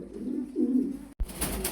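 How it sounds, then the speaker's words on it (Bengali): A pair of Lahori pigeons, a hen sitting on eggs, giving low throaty coos that swell midway, then a brief dropout followed by a burst of rustling handling noise. "এখানে ডিম সহকারে একজোড়া লাহোরি কবুতর দেখাচ্ছি।"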